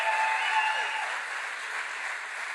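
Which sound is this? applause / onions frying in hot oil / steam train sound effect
applause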